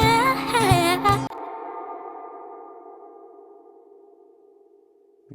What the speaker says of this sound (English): And then I am adding a spring reverb to the delay.